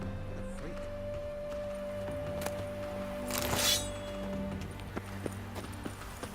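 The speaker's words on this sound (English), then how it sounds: "Run, Roach" Horse hooves clip-clopping in The Witcher 3 video game, a steady run of soft hoofbeats over low game ambience, with a brief louder rustling burst midway.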